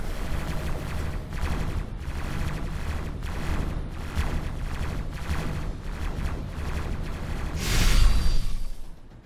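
Rapid bursts of gunfire and missile launches ring out from a ship in the space game X4 Foundations, with repeated volleys through the whole passage and a louder whooshing blast near the end.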